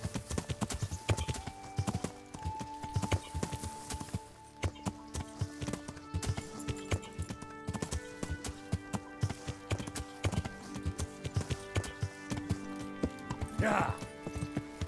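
Rapid, rhythmic hoofbeats of a galloping horse in the video game Kingdom Come: Deliverance pound steadily throughout, with a brief whinny near the end and sustained tones in the background.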